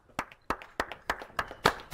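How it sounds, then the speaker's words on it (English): Six sharp hand claps land in an even rhythm about every third of a second at a house gathering, each a crisp close-up smack with a short decay and quiet gaps between. "Clap it up"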